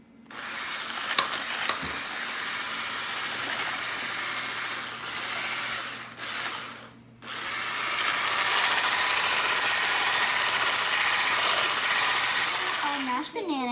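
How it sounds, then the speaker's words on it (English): An electric mixer whirs through banana bread batter in long, even runs, stopping briefly twice before restarting loudly and then winding down, with the beaters rattling against the bowl. "you will mix your batter again"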